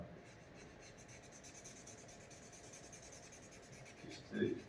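A paper blending tool rubs pastel into the grain of drawing paper. It makes a faint, steady scratchy rubbing that continues throughout, with a brief louder scrape near the end.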